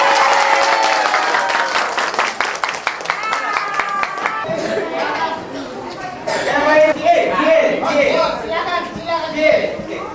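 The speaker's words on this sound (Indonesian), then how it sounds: "Tepuk tangan buat adik-adik." Audience applauding children at a morning gathering, a burst of clapping with distinct individual claps that turns into chatter and voices as it dies away.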